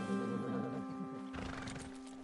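A horse in a PS4 video game whinnies with a wavering, descending call, followed by hoof clatter and some background noise.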